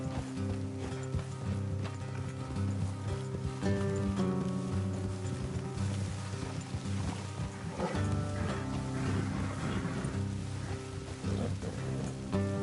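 Horse hooves clip-clop steadily in the video game Red Dead Redemption 2, beneath a dense, continuous layer of music and ambient sound.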